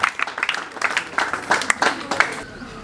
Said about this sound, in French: Des applaudissements, s'il vous plaît, très fort.